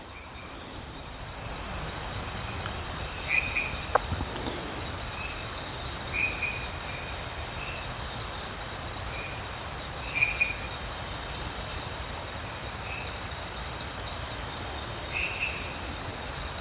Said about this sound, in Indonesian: bisa dengar banyak suara serangga di sini, kayak jangkrik.